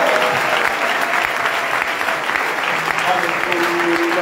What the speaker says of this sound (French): Est-ce que quelqu'un peut acclamer le roi des rois?